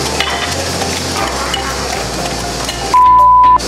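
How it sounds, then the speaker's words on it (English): Pumpkin donut batter ingredients, sugar and cinnamon, being whisked together in a bowl: a loud, steady scraping swish with rapid repeated strokes, close up, with no talk, ending in a brief tone. "Whisk these together."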